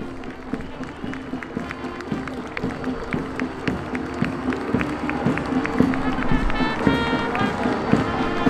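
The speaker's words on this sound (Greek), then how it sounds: "Χειροκροτήστε τους." Sustained audience applause at a 25 March national celebration event, many hands clapping in a dense, steady patter that grows slightly louder over several seconds.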